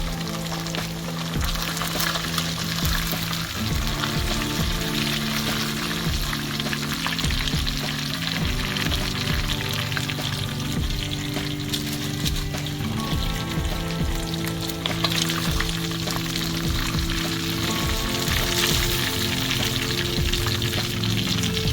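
Fish frying in hot oil for a crispy fish fry, with a steady dense sizzle that runs unbroken at moderate loudness and has faint clinks and stirring sounds over it.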